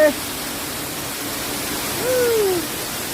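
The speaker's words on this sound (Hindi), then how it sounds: "देखिएगा वाटरफॉल कैसे है।" A big waterfall near a village makes a steady, loud, broadband rush of falling water. A voice speaks briefly over it.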